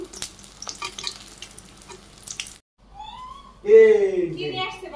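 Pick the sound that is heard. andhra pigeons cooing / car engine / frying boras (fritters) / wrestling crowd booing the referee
frying boras (fritters)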